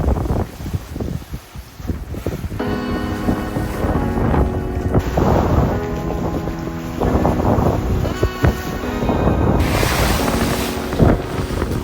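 Wind rushes steadily over a sailing yacht making way under sail on open sea, a loud, continuous roar with water wash and faint rigging tones, heard alone without voices.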